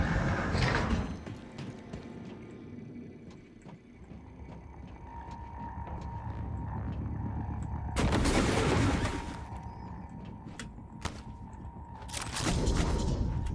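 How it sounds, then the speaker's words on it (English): A GLOO Cannon fires in the sci-fi game Prey (2017), giving sharp, broadband spraying bursts at the start, in the middle and at the end, with a quieter hum between shots and no talk. "This is the other use for the glue cannon."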